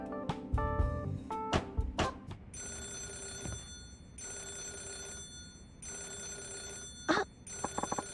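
Telephone ringing in the video game Yakuza 0: an electronic ring sounding in repeated bursts with pauses between, following some clicking menu-like sounds, with no voices.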